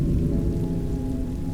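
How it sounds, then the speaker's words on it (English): Steady rain falls as a dense, continuous patter with a low rumbling undertone, loud and even throughout with no voices. "That's when the rain started."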